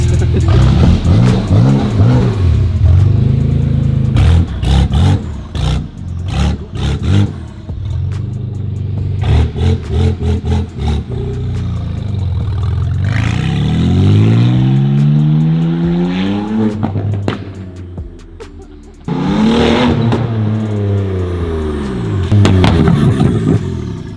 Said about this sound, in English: Joseph took off the exhaust off of this F80, and it's so loud